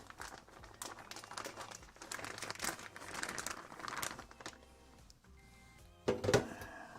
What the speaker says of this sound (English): Paper towel, a little paper towel here.